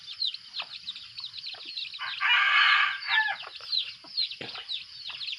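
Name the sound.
red junglefowl rooster crowing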